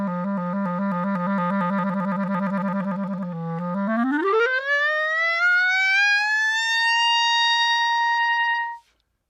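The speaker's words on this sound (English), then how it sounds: "The glissando is the centerpiece of one of the most famous clarinet solos, Rhapsody in Blue" A clarinet plays the Rhapsody in Blue opening: a low trill held for a few seconds, then a smooth glissando sweeping upward to a sustained high note that cuts off cleanly, solo and close.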